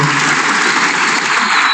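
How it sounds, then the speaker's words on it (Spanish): A brief burst of steady, dense applause from an audience, loud and continuous with no talking. "Fuerte aplauso"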